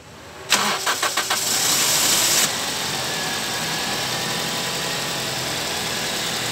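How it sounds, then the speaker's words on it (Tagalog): A Toyota Corolla Altis engine cranks with a rapid stuttering whir for about two seconds, catches, then settles into a steady, close idle. "So paandarin ho natin yung makina."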